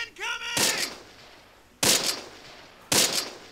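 Gunfire in the Close Combat video game: three loud, sharp shots ring out at irregular intervals, each decaying into a short echo, with a brief tonal sound just before the first.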